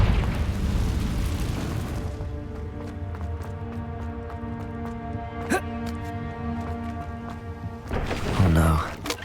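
A Confringo fire spell blasts in Hogwarts Legacy, opening with a heavy rumbling burst that decays into a long ringing magical tail, followed by a second louder impact near the end.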